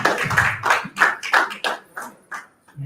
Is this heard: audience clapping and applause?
yes